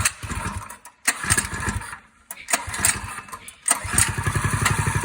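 A Predator 212 small engine mounted on a shopping cart is pulled over, sputters and cuts out in short bursts, then catches and settles into a loud, rapid chugging idle close by.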